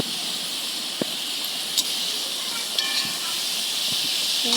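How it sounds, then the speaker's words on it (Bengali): Potatoes and pointed gourd frying in oil in a pan, a steady sizzling hiss throughout with a few faint clinks. "ভালো করে একটু ভেজে নেব।"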